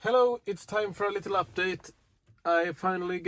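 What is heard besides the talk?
No everyday noises stand out.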